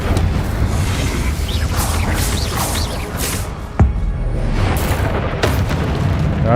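Incendio fire spell blasts in the Hogwarts Legacy video game, a dense continuous roar of booming, crackling bursts with a sharp thump partway through, loud and close throughout.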